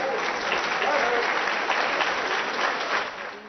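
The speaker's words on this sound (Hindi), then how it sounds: "हंसी ठहाकों और तालियों की गड़गड़ाहट के बीच" Sustained crowd applause at a Narendra Modi political speech rolls on as a thick, even wash of clapping, then eases off toward the end.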